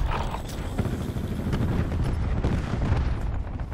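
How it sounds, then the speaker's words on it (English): A cluster grenade goes off in a first-person shooter, a rolling sequence of muffled blasts and rumbling bursts strung together over a few seconds of heavy low-frequency noise. "Cluster grenade going out."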